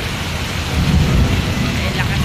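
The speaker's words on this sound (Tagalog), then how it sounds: "Ay, lakas pa ng kulog." Thunder rumbles deep and loud through a heavy downpour in Karuhatan, rain hammering the surfaces as a continuous roar while the low rolling rumble swells and fades over a couple of seconds.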